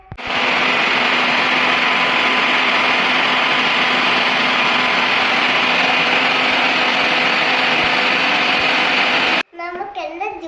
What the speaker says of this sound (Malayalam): കിച്ചണിൽ നിന്ന് മിക്സിയിലിട്ട് അരയ്ക്കാം.